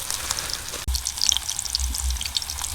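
Pieces of catfish frying in very hot oil over a riverbank cooking fire, a steady crackling sizzle with bright popping spatters, close and loud, without talk.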